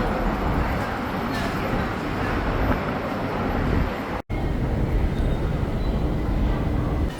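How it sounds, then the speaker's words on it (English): Guangzhou metro train heard from inside, a steady loud rumble of wheels and motor running throughout, with a brief dropout near the middle. "You see, this is the metro."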